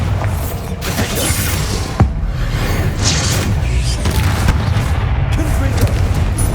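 Bombarda explosion spell from Hogwarts Legacy, heard as heavy, rumbling booms with a sharp crack near the start and mechanical clatter throughout, loud and close, with a voice partly underneath.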